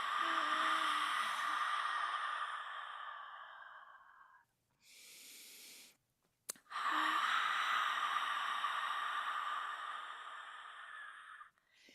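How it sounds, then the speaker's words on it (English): Slow, deep breaths taken during a gut-healing energy medicine session: one long audible inhale or exhale, a short breath, then another long steady breath, close and clear in a quiet room. "Keep doing that deep breathing."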